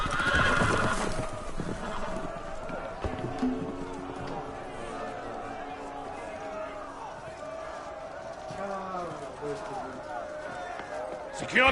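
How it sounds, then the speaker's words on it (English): Loose horses in a Game of Thrones video game whinny and neigh loudly over galloping hooves and clip-clop, with voices and general commotion throughout. "The horses! They're loose!"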